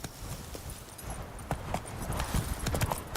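Horse hooves in The Witcher video game clip-clop in a quick, steady galloping rhythm of soft, close thuds, fairly quiet and alone.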